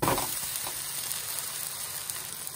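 An onion uttapam frying in oil on a pan just after flipping, a steady close hiss and sizzle with a brief scrape at the start, no voices.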